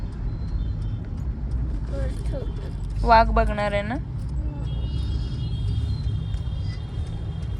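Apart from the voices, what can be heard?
road traffic heard from inside a car in Pune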